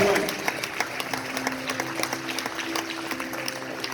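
A church congregation at a worship service claps in a steady round of applause of moderate loudness, with an electronic hum underneath and a voice speaking over it.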